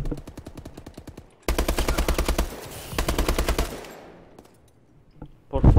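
Rapid automatic submachine gun fire in a competitive Call of Duty-style tournament match, loud close bursts of fast regular shots, a long sustained burst, then a second burst, fading to quiet before a final loud hit.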